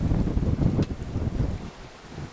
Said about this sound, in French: le vent est en train de tomber